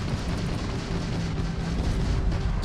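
Incoming weapon fire in the Starfield game as a dense, loud, continuous rumble of explosions and booming blasts with no clear breaks.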